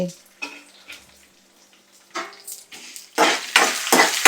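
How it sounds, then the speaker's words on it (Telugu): Tomato pieces fry slowly in oil over a low flame for chutney, with quiet gaps broken by crackling sizzle bursts that grow louder and more continuous toward the end. "చిన్న మంట పెట్టుకుని స్లోగా ఫ్రై చేసుకోవాలి"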